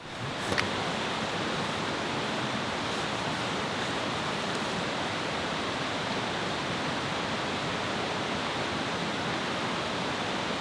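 A river flows beside a riverside campsite at the lowest point of a lakes trek near Bariloche in Patagonia, a steady, loud, broadband rush that continues unbroken throughout.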